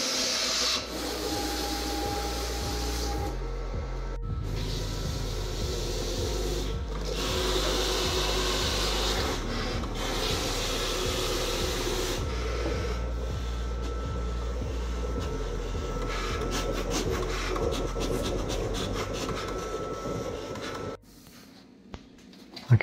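A printer prints onto vinyl sticker sheets, a continuous mechanical whir with rhythmic carriage passes and short pauses, ending in near quiet with a final click.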